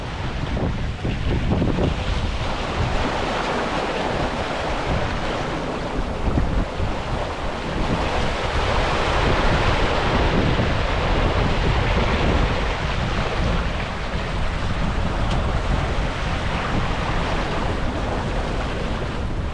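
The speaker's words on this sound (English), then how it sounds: "the waves picked up a bit" Ocean waves and strong wind surround a sailboat crossing the Pacific, a dense, constant roar of rushing water and wind buffeting close to the microphone without pause.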